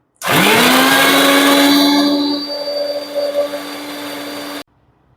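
A kitchen mixer grinder whirs loudly, grinding masala paste for Siruvani chicken; a steady high motor whine starts abruptly, holds, drops slightly as the load changes, then cuts off.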